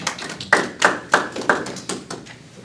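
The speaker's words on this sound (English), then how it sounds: "I can fumble, I can clap" A single person clapping hands in an unrenovated attic, about six sharp distinct claps with short room echo, spaced irregularly, close and alone with no talking.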